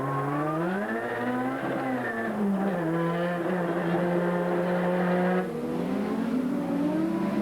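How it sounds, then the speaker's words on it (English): High-revving race car engine during the wet 1989 Adelaide Grand Prix, Peter Brock driving, a loud continuous wail with rising and falling pitch as the revs climb and drop, with a sudden shift near the end. "Let's listen to this engine again."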